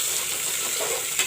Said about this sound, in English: Oil is turned hot and I have put in the onions.